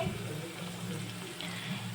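Gram flour is stirred into a potato gravy simmering in a pan, a soft steady sizzle with light scraping of the spoon, fairly faint and close with no talk.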